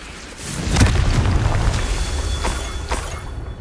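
Repeated booming blasts from the Confringo fire spell in Hogwarts Legacy gameplay, a heavy rumbling explosion with crackling bursts layered over continuous low in-game noise.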